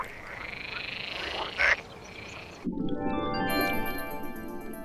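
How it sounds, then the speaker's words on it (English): Frogs croak in a dense alpine outdoor chorus with splashes, a brief louder call breaking through, then the scene shifts to clearer, buzzing croaks with harmonic tones. "where the air is filled with croaks and splashes"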